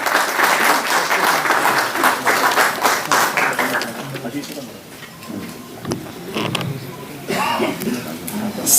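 Audience applause welcoming the chief minister at a Delhi tourism app launch event, a loud burst of clapping for the first few seconds that thins out and fades under crowd murmur and movement.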